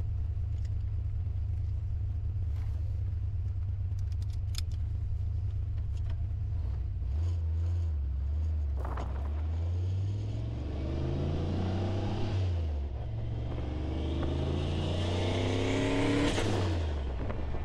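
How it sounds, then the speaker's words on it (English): A car engine rumbles and revs unevenly, its pitch rising and dropping as it stutters and falters, close and continuous throughout. "So you can hear the car cutting out."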